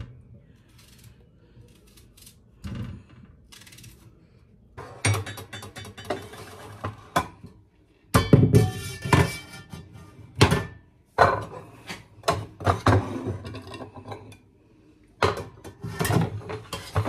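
Tomatoes and onions being chopped for a salad with a knife on a board in a home kitchen: scattered, irregular sharp knocks and cuts, close and fairly loud, starting sparse and then coming in dense bursts with short pauses.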